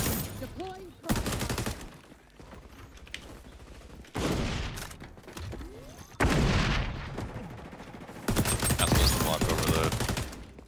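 Light machine gun hip fire in a first-person shooter game, several sustained bursts of rapid automatic shots separated by short pauses, loud and close, with game effects in the gaps.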